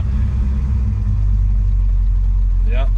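Blueprint 347 stroker V8 in a 1966 Ford Mustang idles with a deep, steady, loud rumble close by, a short voice breaking in at the very end.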